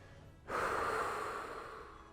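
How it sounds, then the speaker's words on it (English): A single slow exhaled breath during a cool-down in a fitness workout, soft and breathy, starting abruptly and fading gradually over about a second and a half, close and alone. "Exhale slowly"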